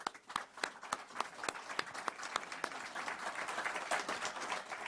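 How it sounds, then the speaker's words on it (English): Audience applause at a football coach's introductory press conference, a dense patter of many hands clapping steadily for several seconds, moderately distant with no talk over it. "John, round of applause."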